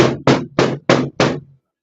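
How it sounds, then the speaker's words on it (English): Five firm knocks on a door in a steady, evenly spaced rhythm, loud and close, with no talk over them. "John, is there a knock on your door"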